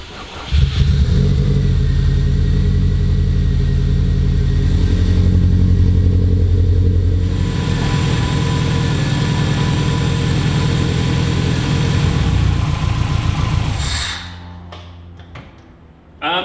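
A built Subaru EJ205 engine in a WRX runs close and loud, holding a rough steady idle before revving up in rising surges, then dropping back and fading near the end, with no talk.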